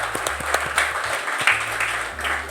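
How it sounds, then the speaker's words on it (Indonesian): An audience claps for a guest at a talk-show style event, a moderate, fairly steady round of applause with individual claps standing out under a low background hum. "Beri tepuk tangan yang paling meriah buat Mas Alvin Wijayanto."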